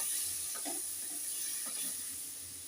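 Tomato and green chili masala sizzling in a pan, a steady hiss with a few soft stirring scrapes and clicks near the start and middle, fairly close and unbroken by talk.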